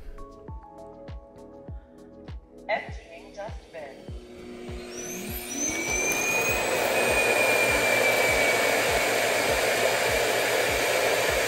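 A Roborock S7 MaxV Ultra dock powers up and empties the robot vacuum's dustbin with a loud, steady whooshing suction roar. Rhythmic clicking and thumps come first, then a short whine as it starts.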